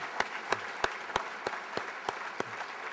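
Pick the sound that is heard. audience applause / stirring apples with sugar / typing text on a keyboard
audience applause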